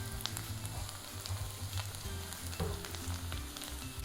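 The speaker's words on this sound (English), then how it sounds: "Our onions are getting nicely browned around the edges." Onions browning in a pan for Polish smoky potato soup, a continuous close sizzle with a low, steady frying hum and scattered sharp pops and crackles throughout.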